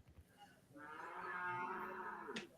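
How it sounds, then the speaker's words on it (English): Cows mooing outdoors on a farm, one long sustained low moo swelling to a loud peak and holding before a short rising tail, heard alone without talk. "The cows."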